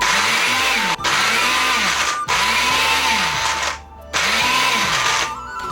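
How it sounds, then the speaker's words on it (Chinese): An electric blender chops garlic, ginger, chili and scallions with a little water in loud, steady whirring bursts, its pitch rising and falling over several short pulses with brief pauses between them. "放置在搅拌机的柱子上， 把各种辅料打碎，"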